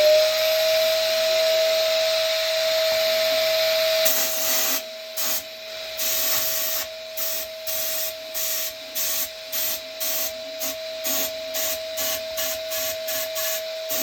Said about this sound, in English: to clean the air wash, just turn on the ash vac and blow it out